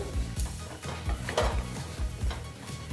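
Spices with green chili and Kashmiri red chili powder fried in a pan, heard as rhythmic scraping stirs over a light sizzle, close up and without speech.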